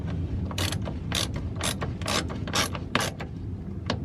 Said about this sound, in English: Use a ratchet for that one.